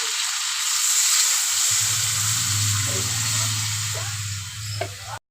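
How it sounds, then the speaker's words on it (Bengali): Frying curry sizzles loudly in a pan as water is poured in, a bright continuous hiss joined midway by a low bubbling rumble, with a light clink just before it cuts off. "এখন আমি পরিমাণ মতো জল দিয়ে দেবো।"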